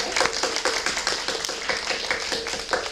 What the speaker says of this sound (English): Shall we all give them a big round of applause?